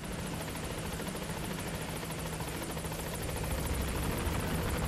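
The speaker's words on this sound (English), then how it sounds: "so you could choose to fly by helicopter if you prefer" Helicopter from the video game Metal Gear Solid V: The Phantom Pain, a steady loud rotor chop and turbine roar filling the whole clip with rapid pulsing blades and no talking.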